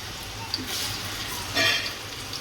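Ground green chili frying in hot oil in a home kitchen, a soft continuous sizzle with a brief louder spit partway through, while someone speaks over it.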